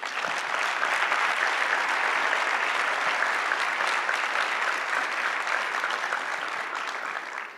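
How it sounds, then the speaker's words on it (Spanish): Sustained applause from a forum audience on security and justice, steady dense clapping throughout at fairly close range, fading slightly at the end, with no speech over it. "se merece un gran aplauso."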